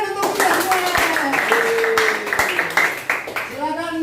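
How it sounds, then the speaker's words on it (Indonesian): Hand clapping from a small group in an Indonesian classroom-style presentation session, brisk and fairly close, mixed with voices talking and calling out over the claps. "tepuk tangan untuk kita semua."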